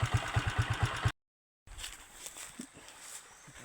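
A habal-habal motorcycle engine runs with a steady pulsing putter at first, cuts to a brief silence, then returns as a quieter rumble with road and movement noise.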